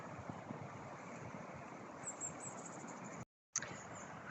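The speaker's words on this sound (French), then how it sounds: "ce cadre et ce son de la rivière" River water flowing steadily outdoors, a continuous broadband rush that stays even and fairly loud throughout, with a brief dropout near the end.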